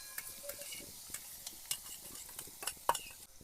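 Quiet scraping and clinking of a spoon stirring a cauliflower curry with onions and green chillies in a pan, with a faint sizzle underneath and short irregular strokes.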